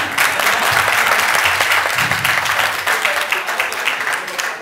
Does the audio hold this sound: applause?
yes